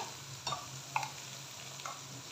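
Cumin seeds sizzle in hot oil for vegetable pulao, a steady close hiss with a few faint ticks and pops, without any talk.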